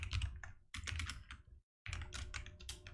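Quick bursts of keystrokes rattle on a computer keyboard in three dense runs, each separated by a brief pause, with a short stretch of silence before the final run. The clatter is close and steady and carries no talk.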